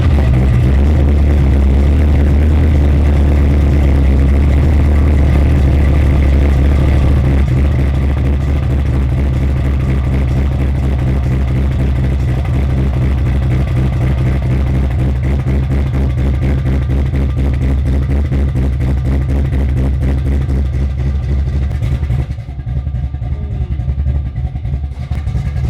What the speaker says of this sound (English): see if it'll cold start for us